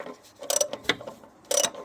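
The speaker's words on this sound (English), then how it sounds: "We're using a 12mm socket to" A ratchet with a 12mm socket loosens the power steering pump bolts on a Chevrolet Aveo during an auxiliary belt job, giving short, close clusters of metallic clicks over a brief moment.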